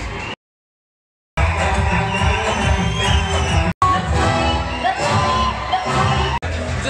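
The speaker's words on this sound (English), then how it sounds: "Hit interval and the crowd is mad." At the interval of a first-day showing in a single-screen cinema, a packed audience roars with cheering, whoops and shouts, loud and continuous apart from a couple of abrupt cuts to silence.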